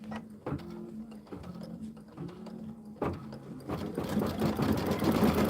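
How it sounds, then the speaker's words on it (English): A sewing machine stitching a quilt starts with a few short mechanical clunks, then speeds into a steady, fast, rattling whir, heard up close. "Needle down, needle up, reach under the foot, grab that bobbin thread too. You want both of them. And start stitching."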